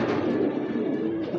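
A male racing pigeon coos steadily and close up, its soft, throaty rolling notes continuing without pause for about a second and a half.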